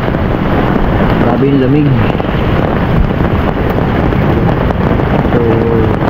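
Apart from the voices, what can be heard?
strong wind blowing on microphone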